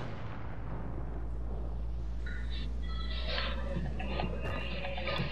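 Bursts of shotgun fire in the Fortnite video game during a sniper battle, several sharp booming shots over a steady low rumble of game sound.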